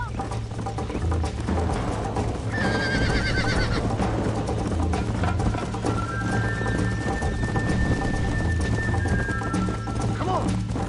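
A horse in the Western video game Red Dead whinnies over the clip-clop of hooves, with rain and game ambience underneath and someone speaking briefly.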